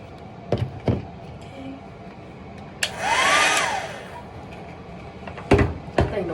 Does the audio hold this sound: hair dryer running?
yes